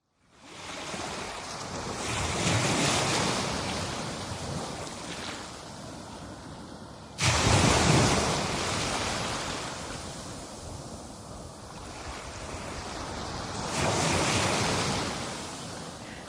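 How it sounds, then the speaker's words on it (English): Ocean waves surge and break in a steady wash of surf with some wind, swelling in repeated rolls and a sharp louder crash midway, with no voices. "I love that ocean wave sound."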